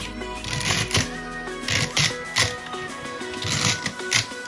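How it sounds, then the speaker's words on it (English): A knife chops celery in quick rhythmic strokes, with crisp repeated cuts close up over faint background music. "There is my celery. I'm going to start to cut."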